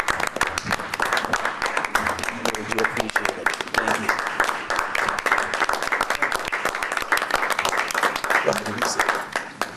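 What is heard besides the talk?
applause for village staff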